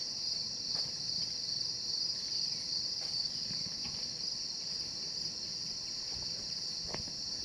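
Crickets chirp in a constant high, dense trill, faint and steady throughout, with a few soft distant clicks and outdoor noise underneath.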